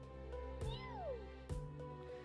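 A cat meows twice indoors, each a short, clear rising-then-falling call about a second apart, heard close against a steady low background hum with no talking.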